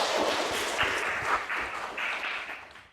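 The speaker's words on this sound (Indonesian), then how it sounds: "Tepuk tangan dong." Classmates clapping in a classroom, a short burst of applause that stays fairly quiet and fades out over three seconds.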